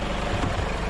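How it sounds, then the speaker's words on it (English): Scania 24-meter heavy truck engine idles with a loud, steady low rumble, heard up close for about a second. "Listen to that thing idle."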